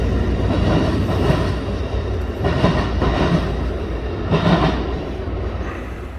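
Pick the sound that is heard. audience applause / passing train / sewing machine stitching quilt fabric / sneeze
passing train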